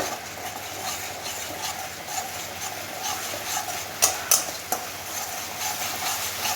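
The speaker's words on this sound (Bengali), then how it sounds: "আর একটু জল দিয়ে ভালো করে নেড়ে চেড়ে নিচ্ছি" A utensil scrapes and stirs Bengali egg curry masala thinned with water in a pan, soft continuous scraping with a few sharp metallic clinks partway through.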